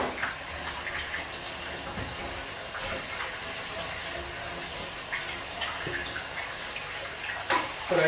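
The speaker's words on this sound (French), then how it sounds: "Voilà, je vais laisser l'eau couler dessus" Cold tap water runs steadily over a salmon fillet being rinsed for gravlax, a continuous hiss and splash that holds level throughout, with a brief louder gush near the end.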